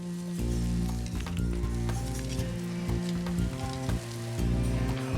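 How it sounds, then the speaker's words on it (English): Seafood grilling at an outdoor buffet aboard a cruise ship, a bright continuous sizzle and crackle close by over a constant background hum, with occasional scraping and clattering from the cooks. "Deliciously grilled seafood."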